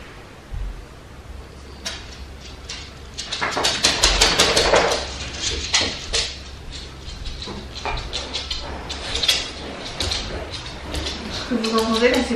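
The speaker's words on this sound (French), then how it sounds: "Ce que vous entendez là, c'est pas un rhinocéros, c'est Cracotte qui essaye de se gratter" A dog scratches itself on the floor in irregular bursts of thumping and rustling, fairly close, while someone speaks softly over it, with breathing and small movement noises.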